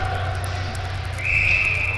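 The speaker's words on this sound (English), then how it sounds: "So we'll have a whistle here with 1:51 left." Referee's whistle blows during a junior ice hockey game against the Des Moines Capitals, a steady shrill tone rising over the constant hum of the arena, heard moderately far off.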